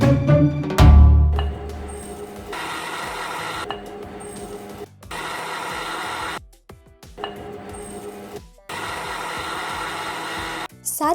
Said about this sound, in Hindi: अब है एक सिंपल प्रोसेस और वो है ग्राइंडिंग का।